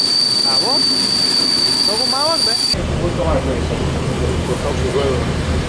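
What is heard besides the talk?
passenger train arriving at station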